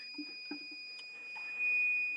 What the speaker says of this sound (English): It's just a warning saying battery running low.